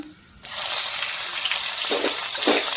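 Cumin seeds and two green chillies hit hot mustard oil and burst into a loud, steady sizzle after a brief quiet start, with a couple of soft pops near the end.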